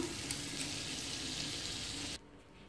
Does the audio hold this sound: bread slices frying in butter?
yes